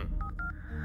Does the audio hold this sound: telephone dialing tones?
yes